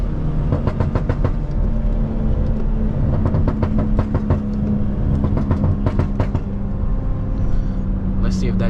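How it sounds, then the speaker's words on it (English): A tuned 550 hp BMW 340i with a B58 engine drones loudly in sport mode while driving, heard from inside the cabin, as clusters of sharp exhaust pops and crackles break through in short irregular bursts. "let me put it back in sport mode right now to get a couple more drives with the pops"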